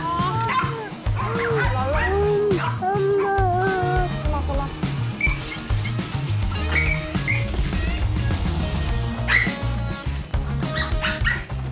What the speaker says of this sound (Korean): 이거는 정상 범위의 짖음은 아니에요.